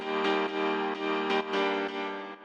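Layered piano chords from a synth production session, sustained with bright upper harmonics and re-struck every half second or so in a steady rhythm, loud and alone.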